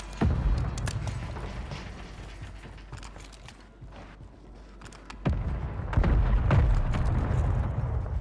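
Artillery shells strike during a Call of Duty Modern Warfare 3 match: heavy booming blasts land at the start and again later, with a rumbling, crackling battlefield roar in between.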